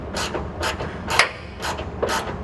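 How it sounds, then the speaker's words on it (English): A hand ratchet tightening a bolt on a heavy-duty sliding truck bed tray, giving five loud, close bursts of rapid pawl clicking at roughly half-second intervals, with no voices. "So let's get started with this ratchet."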